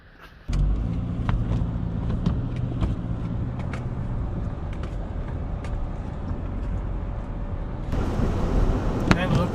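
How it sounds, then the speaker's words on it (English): A car engine idling as it warms up in the snow during winter car camping, a steady low hum heard from inside, starting abruptly and continuing evenly with small clicks and rustles, growing slightly louder near the end. "but just waiting for the car to warm up."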